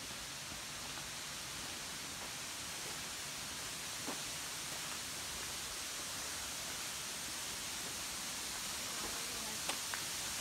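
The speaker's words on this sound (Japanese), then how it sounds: "滝の音が聞こえてまいりました。" Fudo waterfall in Aoya, Tottori, gives a steady, even rushing roar of falling water that stays constant throughout, soft and somewhat distant, with a couple of faint knocks near the end.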